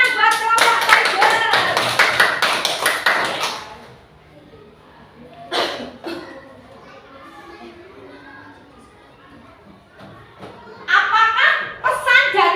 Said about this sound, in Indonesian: Tepuk tangan buat kelompok Tiger.